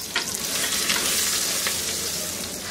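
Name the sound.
onions frying in oil with cinnamon and bay leaves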